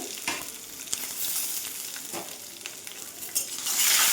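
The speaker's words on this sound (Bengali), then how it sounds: "এতে একটু ভাজা ভাজা হবে" Peanuts frying in a pan, a continuous crackling sizzle broken by scraping stirs, growing louder toward the end.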